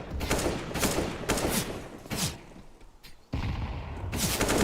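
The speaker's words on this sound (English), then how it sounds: "Nade towards red box, and Nico's got an opening kill again" Gunfire in a Counter-Strike match at a professional BLAST Premier esports event, with bursts of rapid automatic rifle shots and short pauses between volleys, loud and close, with no speech over them.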